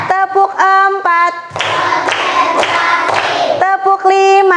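Schoolchildren in an elementary classroom clap in unison for a counting concentration routine, loud claps landing in rhythmic groups amid young voices chanting over them.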